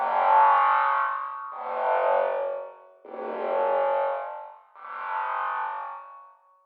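A bass synth patch runs through a vowel-shaping formant effect and an Echo Boy echo plugin, giving four sustained, throaty notes that swell and fade in turn, with a vowel-like, wah-tinged colour.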